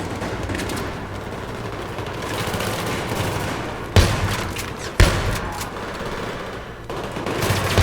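Gunfire rattles through a Battlefield 3 match, steady distant shooting punctuated by two sharp, louder nearby shots a second apart, with a dense battle din underneath.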